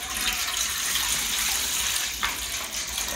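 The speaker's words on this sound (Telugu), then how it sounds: "గిన్నెలో 1 లీటర్ నీళ్లు వేస్తున్నా." About a litre of water pours into a large pot set on a gas stove, a steady close gushing splash that runs continuously without pause.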